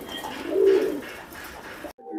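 Old-breed pigeons, Kamagar and Golden Kabutar, coo close by in one swelling throaty call followed by softer murmurs, ending with a brief cut to silence and a faint burst.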